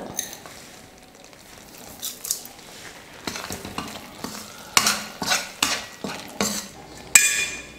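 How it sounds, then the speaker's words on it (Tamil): Onion-tomato masala for a Tamil kola fish curry sizzles in a pan while a spoon scrapes and stirs in a steady rhythm, the strokes growing louder toward the end. "மசாலா நல்லா வதக்கிக்கிட்டேன்"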